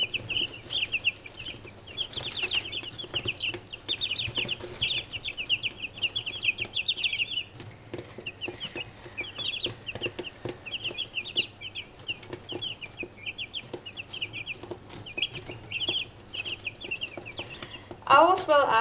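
Young chicks being reared indoors chirp and peep in steady high twittering runs, close and busy throughout, with a person talking quietly at times and a sharper burst of calls at the very end.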